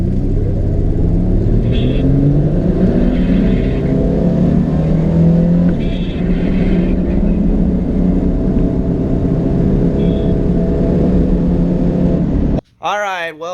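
A Mustang and a Veloster accelerate hard side by side in a drag race. Loud, continuous engine roar with rising pitch as they pull away, close and sustained until a sudden cut at the very end.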